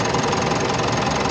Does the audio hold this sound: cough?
no